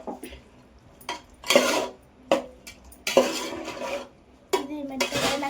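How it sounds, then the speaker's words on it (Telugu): Curd being stirred into paneer biryani in a metal pot, with a spoon scraping and clinking against the sides in several bursts of mixing and short pauses between them. "పెరుగు వేసుకొని మంచిగా మిక్స్ చేసుకోవాలి"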